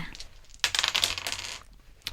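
Dice rattle and clatter onto a hard surface in a quick burst of small clicks, settling within about a second, with a brief tap at the end.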